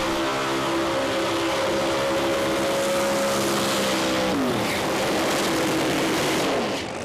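Pro Mod drag racing cars at a British Drag Racing Championship round, a loud sustained engine roar with a steady high drone that suddenly drops in pitch partway through, close and continuous.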